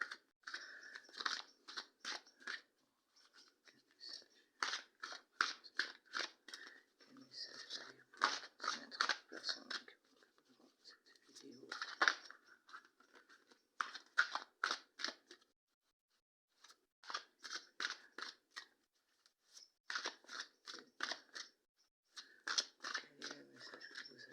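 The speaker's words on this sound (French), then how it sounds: "Je tire les cartes devant vous." Oracle cards handled and drawn during a reading, giving bursts of crisp, rapid papery rustles and flicks in uneven clusters with short pauses between them, close and fairly faint.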